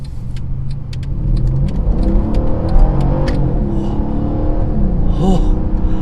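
A Mercedes-Benz CLS550 in sport mode accelerates hard, its engine surging in a loud close roar with rising pitch through the gears and a steady road rumble underneath, with no one talking.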